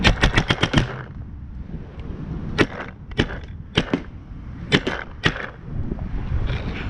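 A Tippmann A5 paintball marker converted to look like an MG34 fires full auto, with a rapid burst of sharp loud cracks and then scattered single and double shots outdoors, no talking.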